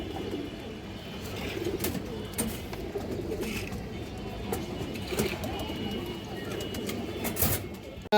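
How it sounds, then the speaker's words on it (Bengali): Soft, low racing pigeon coos murmur steadily in the background, with occasional faint flutters and shuffles throughout. "একটা মাদি কবুতর খুব সুন্দর"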